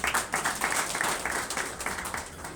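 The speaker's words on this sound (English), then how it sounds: "At least you need and deserve a round of applause." Audience applause, a dense spread of many hands clapping at once, steady and fairly loud throughout.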